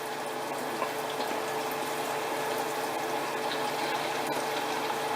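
Szechuan-style chicken fries in hot oil, a dense, steady sizzle and bubbling that holds constant and close throughout with no voices.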